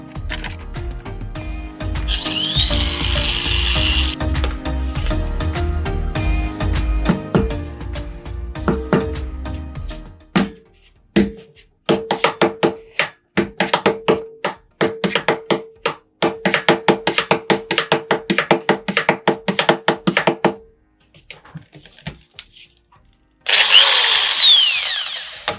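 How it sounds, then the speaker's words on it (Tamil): A drilling machine bores holes into metal cans, with long steady whirring runs alternating with choppy bursts of grinding and rattling, loud and close, separated by short pauses and no talk. "நான் இப்போ ட்ரில்லிங் மிஷினை எடுத்து செட் பண்ணிக்கிட்டு இருக்கேன்"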